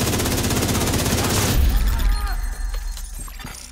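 Rapid bursts of gunfire from a hostile sniper turret in The Division 2, loud and close, followed by a sharp boom and scattered impacts and debris as the shooting fades.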